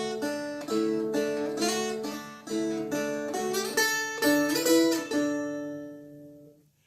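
Liza Jane picked on a stringed instrument with harmony notes on the middle string, a clear sequence of plucked notes in steady rhythm, close and moderately loud, ending on a ringing final chord that fades out.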